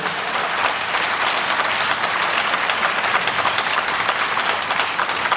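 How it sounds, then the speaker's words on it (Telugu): An audience applauding loudly and steadily throughout, a dense wash of many hands clapping at once with no pauses. "ఆ భయాలన్నీ తీసేయడం కోసం గట్టిగా ఒకసారి చప్పట్లు కొట్టాలి"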